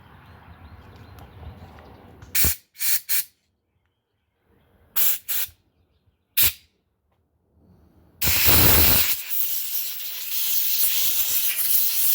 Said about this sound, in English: let me get my air compressor out.